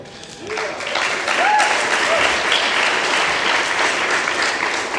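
Steady applause from a crowd at a women's soccer awards reception, filling the room for several seconds, with faint voices under it.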